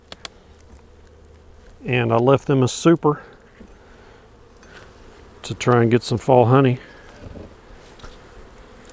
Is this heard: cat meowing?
no